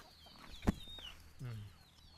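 Backyard chickens on a small Thai farm where ducks and pigs are also kept give a sharp cluck near the middle, followed by a short lower call, with quiet open-air background around them.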